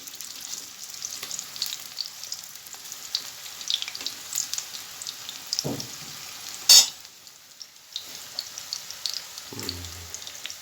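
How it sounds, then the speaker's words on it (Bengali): Pumpkin slices fry in hot oil in a pan, a continuous close sizzle with scattered crackles and a few dull knocks from the utensil. "এই কুমড়োর পাট ভাজা, এগুলো ভাজা হচ্ছে।"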